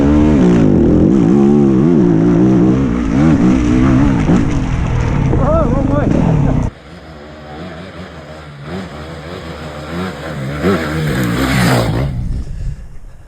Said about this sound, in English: What a good day riding motorbikes.